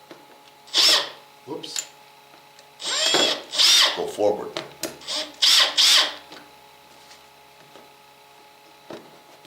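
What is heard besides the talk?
power drill driving a bolt into a motorcycle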